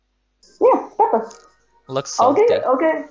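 A pet dog barks in a video game scene, giving a couple of short yips mixed in with people talking close by.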